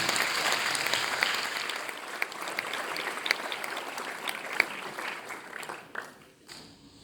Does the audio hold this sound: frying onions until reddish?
no